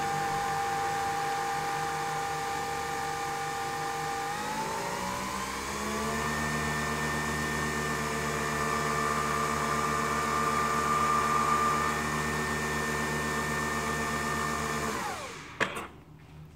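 A Nespresso coffee machine brewing a 40ml espresso gives a steady, droning pump hum with a slight rise in pitch partway through, running continuously before cutting off with a couple of small clicks at the end.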